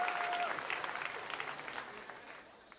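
A large audience at a state ceremony honoring Diaspora Jews at Jerusalem's Binyanei HaUma convention center breaks into full, dense applause that gradually thins and fades.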